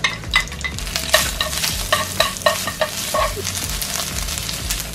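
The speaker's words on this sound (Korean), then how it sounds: "미역줄기를 넣고 볶아주세요." Seaweed stems stir-fried in a frying pan with a little brown rice oil, a loud close sizzle broken by rapid repeated scraping and tossing strokes of a utensil against the pan.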